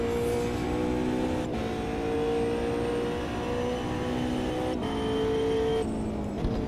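A race car in the video game Automobilista 2 is pushed hard around a track, its engine whining high and steady with sharp shifts and dips as revs drop and climb again.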